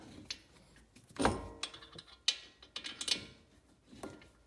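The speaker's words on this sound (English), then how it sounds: "And now we just tighten the caliper bolts by hand." Metallic clicks and ratcheting turns come in short bursts as brake caliper bolts are tightened on a rear brake job on a 991.2 Porsche Carrera base, close and fairly quiet, with no talking.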